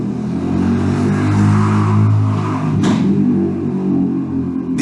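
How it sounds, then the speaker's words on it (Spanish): A motorcycle engine drones loudly nearby with a steady low rumble that swells in the middle of the stretch as it goes past, with no talking. "disculpen la moto"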